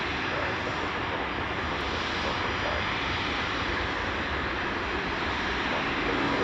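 A plane touches down on a runway at Chicago O'Hare on a foggy night, its broad, steady roar of engines and rushing air filling the whole stretch loud and unbroken, with no voices.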